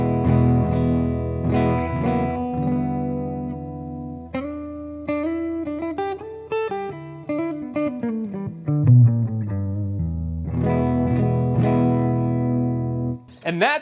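Peavey Vortex 2 electric guitar played through its neck pickup with a distorted, effects-laden tone: sustained chords and a melodic single-note run, loud and close, with no talking over it.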